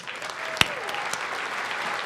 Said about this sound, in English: would you please join me in a round of applause and welcome Carrie Holden to the stage.